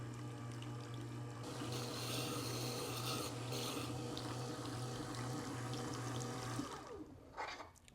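A JET JSSG-10 water-fed wet grinder sharpens a tool bevel with a steady rasping, wet scraping over a low motor hum, continuous and close, fading near the end.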